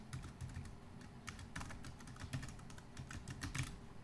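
Quick, uneven key taps on a computer keyboard as a web address is entered, soft and close, a steady patter of clicks with no voices.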